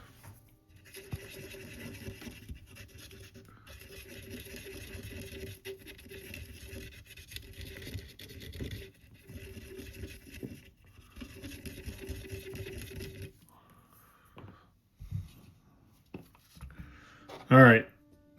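Quiet, repeated scrubbing and brushing on a Sega Genesis Model 2 circuit board, a rhythmic scratchy rasp running for a long stretch, then scattered knocks and a short louder clatter, with someone talking at times.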